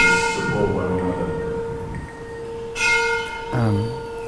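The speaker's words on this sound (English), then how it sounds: "let's wait for the bell" A bell rings during a spiritual lecture, clear sustained tones with a lingering ring and a second strike near the end, close and fairly loud over a faint background murmur.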